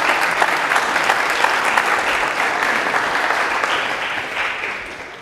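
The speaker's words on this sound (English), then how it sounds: "I don't know if that was applause for what he said or applause because I got up" Audience applause at a morning presentation, dense and steady clapping from many hands that fades gradually toward the end.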